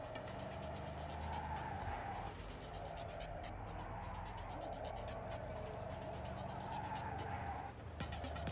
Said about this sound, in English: That sound makes it sound like he's driving while he's hitting the brakes.